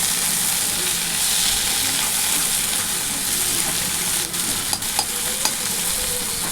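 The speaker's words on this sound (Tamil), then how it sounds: "அடுத்து பூண்டு போட்டு நல்லா வதக்கிக்கலாம்." Garlic, tomato and curry leaves sauté in a pan with a steady close sizzle and the scrape of stirring, punctuated near the end by a few sharp clinks of a spoon against the pan.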